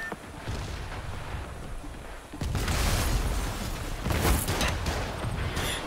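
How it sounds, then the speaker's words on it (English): In Spider-Man Remastered, a rocket launcher fires, two booming blasts with rumbling explosions over a steady background din. "Rocket launcher."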